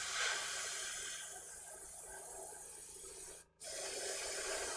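An airbrush blowing plain air to dry freshly painted vellum model plants, a steady close hiss that cuts out briefly and then resumes.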